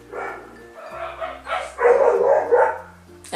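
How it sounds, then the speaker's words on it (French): Dogs scuffle and bark in a brief fight, a series of sharp yips, growls and barks rising and falling close by, with a steady low hum underneath. "Il y a un petit fight entre chiens là."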